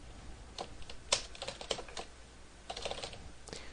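Typing on a computer keyboard while entering a name and email into an Outlook contact list, with irregular bursts of close, light key clicks and short pauses between them, no talking.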